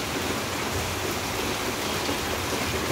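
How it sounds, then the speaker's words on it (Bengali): Heavy rain pours down steadily, a dense, even wash of close, loud hiss with no pauses or other sounds standing out. "আমাদের এদিকে তো প্রচুর বৃষ্টি।"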